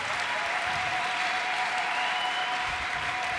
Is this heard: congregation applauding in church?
yes